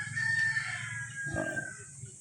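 A rooster crows faintly in the distance with one drawn-out call, over low steady background noise, and a short cluck from chickens nearby partway through.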